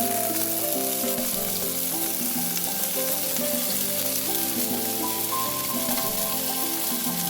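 Half a kilo of tomatoes tipped into a hot frying pan, giving a loud, steady sizzle and hiss that runs unbroken over a tonal background.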